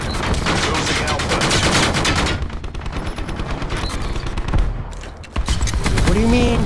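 Gunfire in Call of Duty Black Ops 4 from a MicroMG, rapid bursts of automatic shots that are loud at first, then drop back and return before a final flurry.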